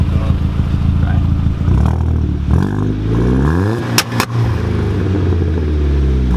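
A straight-piped Hyundai car with a side exit exhaust, at a night car meet, rumbles loudly nearby, then snaps into a sharp rising rev and drops back. Voices and crowd noise sit underneath.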